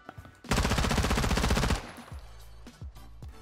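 Automatic gunfire in Warzone 2 with an egg-shaped tracer effect: a loud, fast, sustained burst of about a second, then quieter thuds and game sounds.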